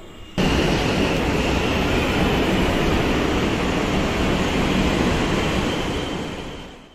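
Inside a Kolkata metro train heading to Dakshineswar, a loud steady rumbling roar starts abruptly, holds evenly for several seconds and then slowly fades toward the end, with no voices.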